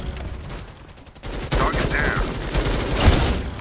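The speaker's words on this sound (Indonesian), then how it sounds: "Gue suka senjata yang spray-spray gini." Automatic weapon spraying in an FPS video game: a dense, rapid stream of gunfire that starts quieter and grows louder after a moment, continuing steadily to the end, with a brief chirping effect partway through.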